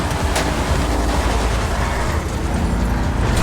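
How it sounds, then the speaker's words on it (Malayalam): A vehicle blows up in GTA Online, a loud booming blast with a sharp crack near the start, then a rumbling, crackling roar of fire and debris that fills the rest of the moment with no talk. "എ വണ്ടി പൊട്ടി, ഇനി ബി വണ്ടി മാത്രമേ ഉള്ളൂ"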